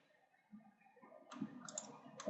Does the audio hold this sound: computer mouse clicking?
yes